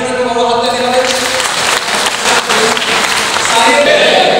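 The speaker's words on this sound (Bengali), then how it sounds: "সাহেবের জন্য একটা বড় হাততালি হবে" A classroom of students gives a student named Saheb a round of applause at a government ITI, with clapping loud and continuous and voices mixed in throughout.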